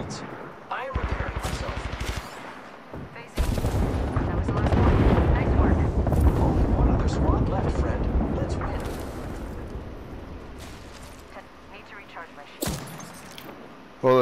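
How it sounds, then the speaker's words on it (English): Airstrike explosions boom and rumble in the shooter game Apex Legends, a long loud rolling barrage of blasts with sharp cracks of gunfire breaking through, close and heavy throughout. "I just threw an airstrike."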